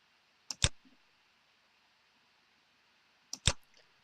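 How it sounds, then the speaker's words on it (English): Two sharp mouse clicks, each a quick double snap, about three seconds apart in a quiet room. "So it's a left mouse click."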